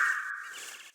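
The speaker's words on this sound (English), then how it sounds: "That sound is typical for the red-bellied woodpecker inhabiting this region." Red-bellied woodpecker call in the video game Birding Simulator: a single short, bright call, fairly close and clear, lasting about a second with no other sound.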